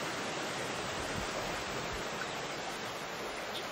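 Water pouring from the Waterberg mountains in South Africa, a constant broadband rush like a waterfall, steady and dense with no pauses.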